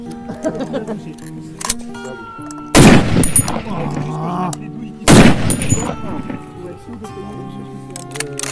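Two powerful, booming shots from a PTRS-41 anti-tank rifle firing 14.5x114mm rounds at an outdoor range, spaced a couple of seconds apart, each with a sharp blast and echoing tail under a low background hum.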